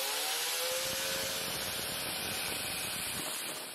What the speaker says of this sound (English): Ball gouge is a truly wonderful tool.